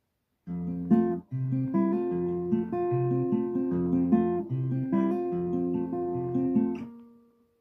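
A fingerpicked guitar intro of a song played solo, clear plucked notes ringing over a steady low open-D bass pattern, ending on a sustained note that fades out.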